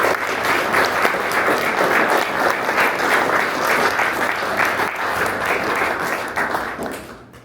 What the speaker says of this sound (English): everyone give Austin a huge round of applause